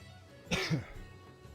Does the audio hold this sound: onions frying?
no